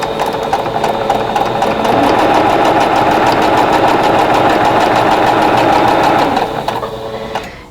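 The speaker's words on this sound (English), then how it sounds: "I'm just going to run the edge of that foot right along the edge of the drawn line" Sewing machine with a quarter-inch piecing foot stitching quilt squares along a drawn line: steady fast needle chatter that ramps up, runs continuously for several seconds, then slows and stops, close and fairly loud with no talk.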